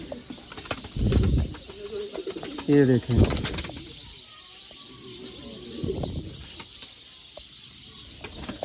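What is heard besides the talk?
breeder pigeons cooing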